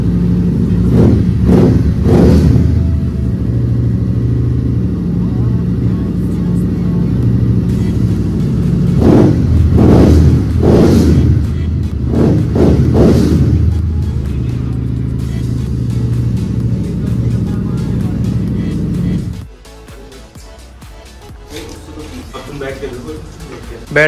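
A bike fitted with a 1000 cc car engine runs close and loud, a steady low idle rising in several quick revving surges before dropping to a quieter hum, with people talking over it.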